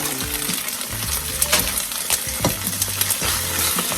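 Scraping and stirring Southwest-seasoned rice with sausage and shrimp in a hot pan with a steady sizzle, utensil clinks and scrapes repeating throughout, close up, no talking.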